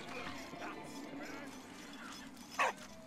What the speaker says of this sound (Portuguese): Que bonitinho esse cachorrinho.